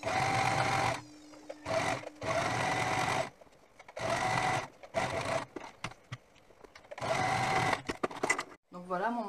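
A sewing machine stitches cotton onto terry cloth for a washcloth in quick loud bursts of rapid needle chatter separated by short pauses, with brief handling noises between runs.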